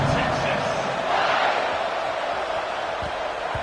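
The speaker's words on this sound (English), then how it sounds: "It's early, but this crowd is fired up." A large stadium crowd at a football game roars continuously in a big open space, a dense, sustained wash of cheering with a voice faintly mixed in.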